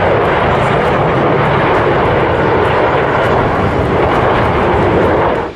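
A Sukhoi Su-57 fifth-generation stealth fighter jet roars loud and steady, a dense, constant engine blast holding with no break until it cuts off at the very end.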